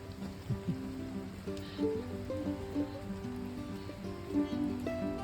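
Steady rain patters on a surface nearby at a beach, a soft continuous wash with a low hum underneath and a few louder drops standing out.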